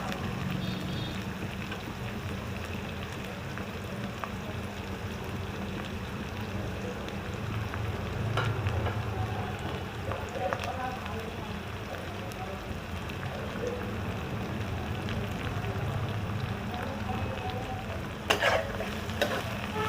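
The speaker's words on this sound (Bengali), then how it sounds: "শুধু কাঁচা যে স্মেলটা থাকে ওইটা যাবার পর্যন্ত পেঁয়াজটাকে ভাজতে হবে।" Onions fry steadily in a pan with a constant soft sizzle and occasional scraping stirs, close and moderately quiet, with a brief clatter near the end and no talking.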